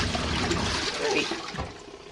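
Water splashes and sloshes steadily inside an RV washing machine during a cold cool-down rinse, a close, continuous churning wash that eases off slightly near the end.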